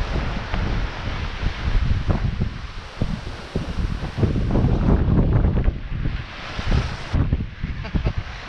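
Strong wind of about 30 knots roars steadily across a transatlantic sailing boat at sea, a loud, broadband gusting rush with flapping and water noise rising and falling throughout, with occasional indistinct voices underneath.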